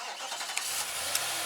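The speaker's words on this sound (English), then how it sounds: "And the V8 engine comes roaring to life" A Nissan V8 engine starts by remote start, a loud broadband surge with a couple of sharp clicks, then settling into a steady running drone.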